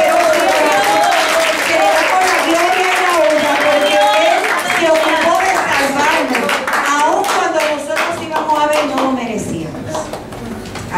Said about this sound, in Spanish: nosotros debemos darle un aplauso al Señor